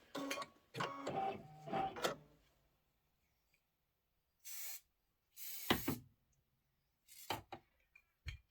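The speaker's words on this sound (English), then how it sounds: "I'm just gonna give this a little shot of spray right in that corner." Several short bursts of aerosol spray hissing close by, separated by pauses, with a few faint clicks and handling noises in between.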